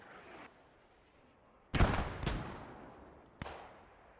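Mortar shells from the WWII shooter Post Scriptum slam down in a few heavy, booming explosions, two close together then a sharper later blast, each leaving a rumbling tail over quiet background.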